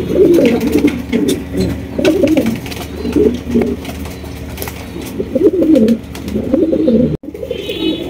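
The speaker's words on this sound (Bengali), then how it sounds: "মাত্র 1200 টাকায় নিতে পারবেন এত সুন্দর বোম্বাই কবুতর।" Bombay pigeons coo in repeated throaty bursts at close range, with soft rustling between the calls and no talking.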